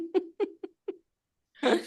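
A kitten gives four short, high mews in quick succession, close by, then a breathy huff of air after a brief pause.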